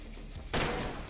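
Rifle fire in the Wolfenstein 3D-inspired indie shooter TrenchPunk: one loud, sudden burst of gunfire about halfway in, whose noisy crack rings out and stays up to the end over a low background hum.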